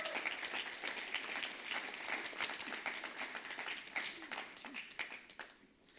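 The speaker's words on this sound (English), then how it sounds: "Can we all give Anita Handley a huge round of applause and say thank you?" Church congregation giving a big round of applause at a Sunday service: dense, sustained clapping from many hands that fills the room, then tapers off near the end.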